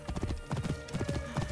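Horse hooves in the video game Assassin's Creed Origins, a quick rapid clip-clop of galloping beats, close and fairly clear, with no speech.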